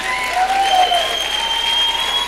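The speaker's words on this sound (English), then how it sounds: "Thank you for cheering" A debate audience claps and cheers in a steady, dense wash of applause, with a faint whistle-like tone threading through the crowd noise.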